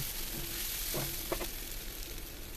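Turmeric, chili powder and cumin powder sautéing in a pan for a Bengali whiskered catfish curry, a steady close sizzle throughout with a couple of brief scraping stirs partway through.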